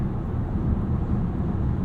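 A 2021 Volkswagen ID.4 1st Edition electric car accelerating past a semi-truck, heard from inside as a steady low road and wind rumble with no distinct motor whine and no talk.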